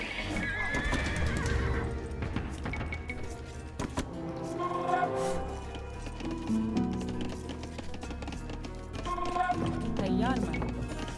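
Several horses whinny and neigh over Age of Empires II: Definitive Edition game music, with hooves clip-clopping and occasional voices in the background.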